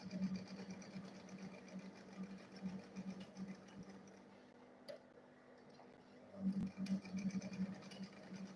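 A sewing machine stitches the lining of a handmade school bag, its quiet rhythmic ticking whir running in short bursts with pauses, then picking up again near the end.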